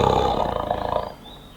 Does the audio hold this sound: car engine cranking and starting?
no